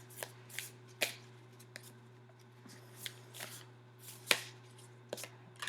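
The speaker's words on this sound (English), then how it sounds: "so let's just shuffle these cards" Cards are shuffled in soft, scattered flicks and slaps over a low steady electrical hum, close by and fairly quiet.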